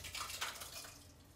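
Liquid poured from one pan back into another, giving a soft splashing trickle that is loudest early, then tapers off to a faint dribble.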